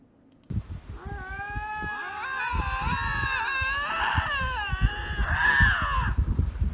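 A lynx yowls and meows in long, whiny, wavering cries that rise and fall like a spoiled child's complaint, loud and close, over a rough background of shuffling noise.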